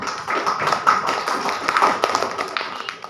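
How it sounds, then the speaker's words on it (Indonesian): Classmates in a school classroom applaud the students standing at the front, a dense patter of many hands clapping at once, steady and fairly close throughout. "sekali lagi tepuk tangan untuk teman-teman semua yang ada di depan"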